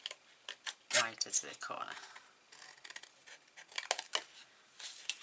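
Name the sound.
scissors cutting paper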